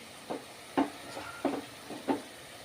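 Fish curry spices fry in oil in a pan, with a low sizzling bed broken by four or five distinct stirring scrapes spaced about half a second apart, close and moderately loud, with no talking.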